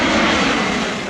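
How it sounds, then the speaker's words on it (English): Airliner approaching head-on to land at an airport with two runways, a loud, steady jet engine roar close overhead with no voices. "let's have a look at some of the aircraft coming in head-on style"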